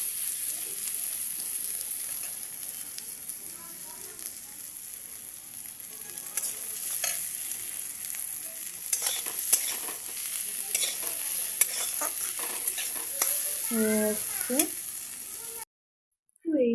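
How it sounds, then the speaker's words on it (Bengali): Vegetables, including beans, fry in a pan for an egg pasta dish, giving a constant bright sizzle with repeated scraping stirs and clinks of a utensil, close and steady before a brief cut at the end. "সবজিগুলো আমার ভাজা কমপ্লিট প্রায় হয়ে এসছে"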